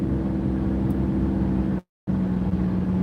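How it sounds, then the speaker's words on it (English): A car engine hums steadily as it drives on an expressway, a constant droning tone with road noise that drops out briefly partway through before returning. "This motor's a little bit noisy."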